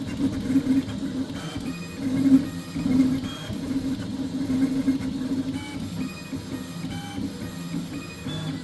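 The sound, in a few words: 3D printer printing with Goliath hot end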